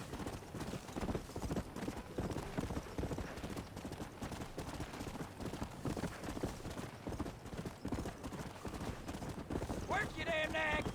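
Horse galloping in the video game Red Dead Redemption, rapid rhythmic hoofbeats close and steady throughout, with a brief whinny near the end and someone talking over it.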